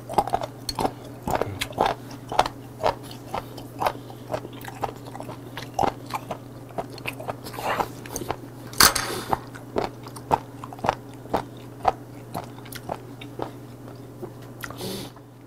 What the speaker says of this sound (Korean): 촛대고등이 기름 소금만 살짝 찍어 먹으면 맛있어요.